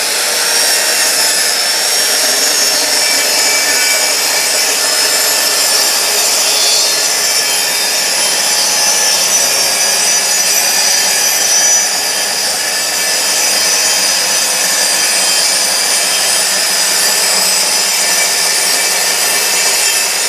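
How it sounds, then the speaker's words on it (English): A Lumberjack PS165 plunge track saw cuts wood with a dust extractor connected, giving a steady, loud, continuous whine and rasp that holds for the whole stretch without pauses or talk. "so we'll see if there is actually any movement or if it runs off when I do this cut"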